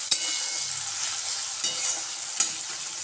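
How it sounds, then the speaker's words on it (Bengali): Peanuts fry with chickpeas and taro greens in a pan, giving a constant bright sizzle broken by a few sharp scrapes and taps of a stirring spoon. "এরপর আমি এর মধ্যে বাদামটা অ্যাড করে দিচ্ছি, দিয়ে আবারও আমি ভেজে নেব।"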